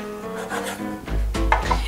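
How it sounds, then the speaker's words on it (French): A knife cuts pita bread in half with a short, close rasping saw through the bread, ending in a heavier thud against the cutting board. "Super simple, les pitas, t'es prends et t'es coupes en deux."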